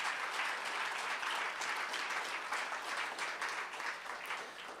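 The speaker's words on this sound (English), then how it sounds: "I'm going to ask that we give a round of applause to Kaiser Chiefs for putting this together" Audience applause at a send-off event, a steady dense wash of many hands clapping at a moderate, fairly distant level, sustained without a break and easing slightly toward the end.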